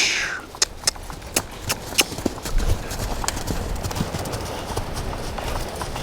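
A young horse lopes on its first ride, hooves clip-clopping in a steady, fairly close rhythm that blurs into a continuous gritty rumble of footfalls on the ground.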